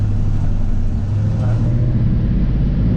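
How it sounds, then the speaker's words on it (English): A 1970 Ford F100 4x4 with a 360 engine and true dual exhaust rumbles steadily from inside the cab, a deep, moderate drone under what may be faint background voices. "It is true dual exhaust, and it sounds very good."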